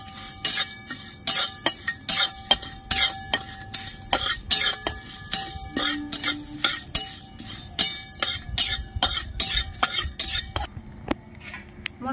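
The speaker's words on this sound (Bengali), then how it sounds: "গোটা জিরে, গোটা ধনে, এক চামচ মৌরি, দুটো শুকনো লঙ্কা, সব একসাথে আমি ভেজে নেব।" Whole cumin, coriander seeds, a spoonful of fennel and two dried chillies dry-roasting together in a pan, with close, rapid stirring and scraping clinks of a spoon against the metal in a steady rhythm, no voices.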